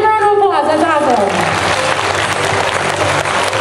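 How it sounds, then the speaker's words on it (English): A school-assembly audience at a trick roping show breaks into dense, loud applause that carries on steadily; a voice rings out over the first moment before the clapping takes over. "Give him a round of applause"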